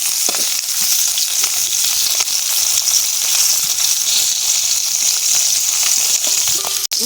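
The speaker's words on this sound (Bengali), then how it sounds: "জ্যান্ত মাছ ভাজার সময় কিন্তু গুলিয়ে ওঠে। মাছগুলো কিন্তু সাবধানে ভাজতে হবে যাতে ভেঙে না যায়," Live stinging catfish (shingi) fry in hot oil in a pan, making a loud, steady, dense sizzle that runs unbroken from start to finish, with a sharp clink near the end.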